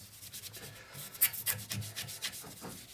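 Fine steel wool scrubs a chrome 1972 Harley XL Ironhead motorcycle swingarm in quick, uneven rubbing strokes, close and fairly quiet, each stroke a short scratchy rasp.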